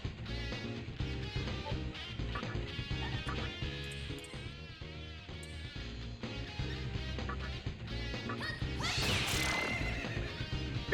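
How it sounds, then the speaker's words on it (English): A horse whinnies in the video game Nocturne: one loud, shrill neigh rises near the end over steady, dense in-game music, with no talk. "Goodbye, horse."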